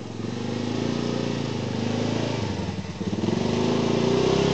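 A vehicle engine drones steadily up close as it drives past, a continuous loud motor hum with a slight dip and then a renewed push of revving near the end.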